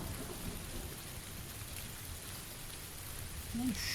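Steady rain falls across the Erangel map in PUBG, a constant soft hiss with low rumble underneath, with a faint brief tone near the end.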